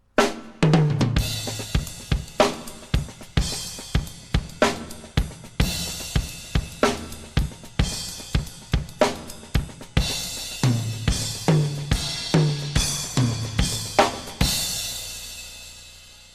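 A drum kit plays swinging figures with a bright ride cymbal, punctuated by accented hits and brief pauses, close and fairly loud.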